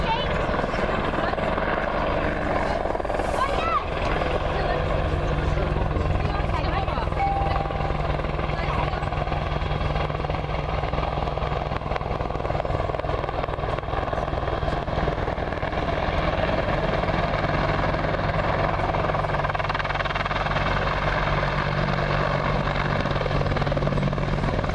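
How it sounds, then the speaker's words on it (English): A British Army Apache attack helicopter thrums steadily throughout at an air festival, its rotor and engine drone constant and fairly close, with no break in the sound. "the British Army Apache attack helicopter"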